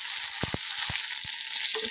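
Slit green chillies hit hot oil with mustard seeds and gondhoraj lemon leaves, producing a bright, steady sizzle punctuated by a few short, sharp pops and spits.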